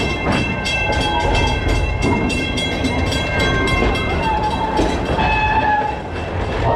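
An amusement park train at Busch Gardens Tampa Bay rumbles along steadily with rhythmic clicking of wheels on track, loud and close, with a brief horn-like tone near the end.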